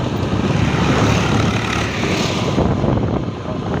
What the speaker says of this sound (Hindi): यहाँ पे ट्रैक्टर जाता हुआ,